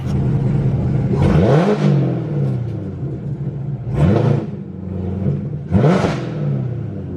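A Porsche's engine rumbles as the car pulls slowly into a garage storage bubble on a cold day, with three loud rising revs over a steady idle drone, close and without talk.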